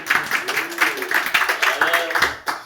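A church congregation claps and applauds after a Sunday worship song, steady dense clapping with a voice speaking over it throughout.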